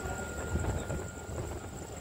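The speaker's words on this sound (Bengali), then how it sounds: "হ্যাঁ, ঢুকে পড়েছে, ট্রেন ঢুকে পড়েছে।" Kolkata–Radhikapur Express pulling into Bandel station, a steady low rumble with a faint high whine running over it for a couple of seconds.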